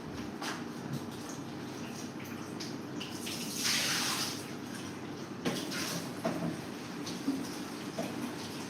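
Sandy food is rinsed under a running sink tap, a steady close gush of water with brief splashes and a swell of louder flow partway through.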